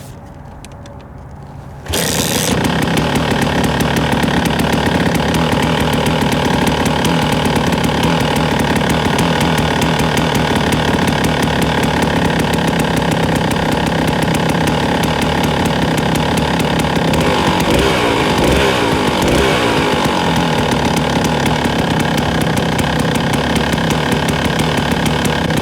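A Kawasaki KDX 220 two-stroke dirt bike starts up after a short quiet moment and then runs continuously, a loud, raspy, buzzing two-stroke drone that holds steady right up close.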